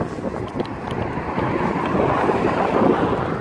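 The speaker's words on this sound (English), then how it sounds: "It's so windy. We're now heading back." Strong wind blows outdoors, roaring and buffeting the microphone in a steady, loud rush that builds slightly toward the end, with no voices.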